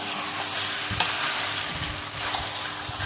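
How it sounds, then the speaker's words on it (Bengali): Goat meat curry is stirred in a pan over a steady sizzle, with scraping strokes and one sharp clack of the spoon against the pan near the start. "একটু নাড়িয়ে নেব"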